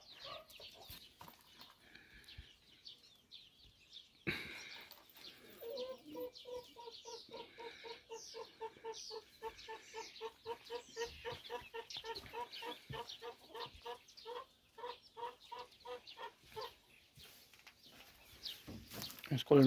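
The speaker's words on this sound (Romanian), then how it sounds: "Aici altă cloșcă cu papui mai mici." Brooding hens with small chicks cluck on a farm in a quiet, fairly distant stream of soft, rhythmic clucks and chirps that runs through most of the stretch, with faint background sounds.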